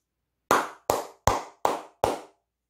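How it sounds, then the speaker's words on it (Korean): One person claps hands five times in a quick, even rhythm, each clap sharp, close and clear against otherwise silent surroundings. "크게 박수 한번 치고 가겠습니다"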